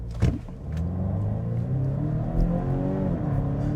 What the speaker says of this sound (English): You basically just floor it, and it should give you maximum power here.